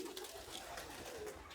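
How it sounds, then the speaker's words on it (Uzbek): Purebred pigeons coo softly in short, repeated murmuring calls, fairly faint and close, with no voices over them. "zot kaptar boqadilar"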